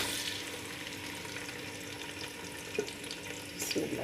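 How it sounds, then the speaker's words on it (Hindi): Two medium onions fry in ghee for an arvi and baingan curry, making a constant, fairly quiet sizzle with a few louder crackles and spits toward the end. "प्याज डालेंगे व्यूअर्स"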